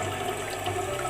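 Water spraying from the dual nozzle of a newly installed toilet bidet during rear wash, a steady hissing spray with a faint watery gurgle, close and continuous for the whole short moment.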